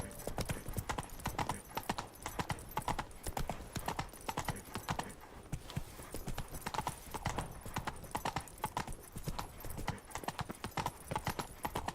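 Horse hooves clip-clopping in a steady, rapid rhythm throughout, up close in The Witcher 3's Blood and Wine setting, with a brief whinny and faint voices talking underneath.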